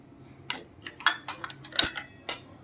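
A spoon clinks and scrapes against a bowl while mixing salad with red chilli sauce, tomato ketchup, lemon juice and masala, giving a handful of sharp, irregular taps close by.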